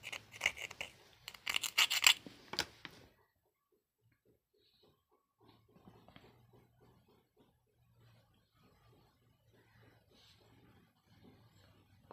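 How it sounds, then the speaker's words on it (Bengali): An LED driver MCPCB board is scrubbed clean by hand: loud, rough scratching strokes in quick bursts at first, then fainter, intermittent rubbing close by. "তো এগুলো আমি একটু ঘষে ঘষে পরিষ্কার করে"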